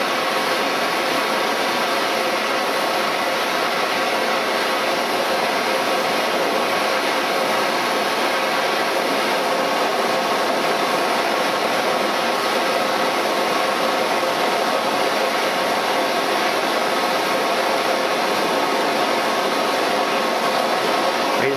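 A steel centre finder punch being heated for tempering, with a loud, steady, unbroken roar of heating lasting the whole time and no speech.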